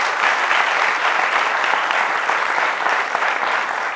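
Loud, dense studio audience applause on a French television talk show welcoming a guest, a continuous even roar of clapping with no voices.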